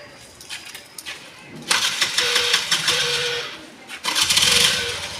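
Scooter engine starting and revving during riding practice, with a sputtering start followed by a steady hum, a brief drop, then another rev, close by and loud, with a voice speaking in places.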